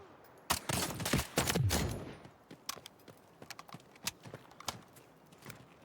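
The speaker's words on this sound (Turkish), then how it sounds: "Solumuzda silah sesi." Gunfire in the Delta Force video game: a loud burst of rapid shots up front, followed by fainter, scattered distant shots and clicks continuing in an irregular rhythm.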